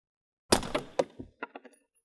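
A suppressed rifle fires one subsonic PPU round through a silencer: a single sharp, muffled crack followed by a few quick knocks and echoes fading over about a second, fairly close, no talking.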